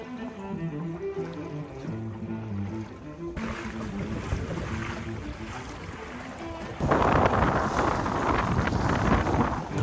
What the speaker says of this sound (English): the greater the strength of the wind and waves